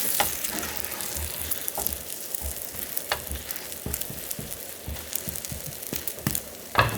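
Beaten egg rolled with green laver seaweed cooks slowly in a pan over very low heat, giving a steady, gentle sizzle with scattered soft pops and light crackles throughout.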